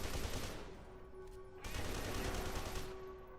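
Dense, rumbling automatic gunfire in the shooter F.E.A.R. 2, a sustained burst that briefly drops away around the middle before resuming, with a steady tonal hum underneath.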